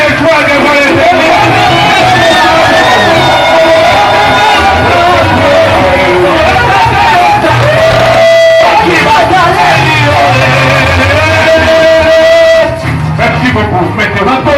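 Church congregation at a Pentecostal worship service cheering and shouting acclamations, a loud continuous crowd roar mixed with music and voices, staying intense before easing at the end.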